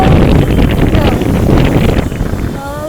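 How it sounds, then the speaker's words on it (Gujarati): Strong wind buffets the microphone with a loud, continuous roar and gusty rumble; a faint tonal whine appears near the end. "પવન બહુ આવે છે"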